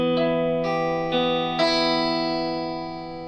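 A six-string guitar strung in Nashville tuning with the octave strings from a 12-string set rings out as four bright strummed chords, heard close and alone, each one sustaining with a shimmering, high-pitched tone.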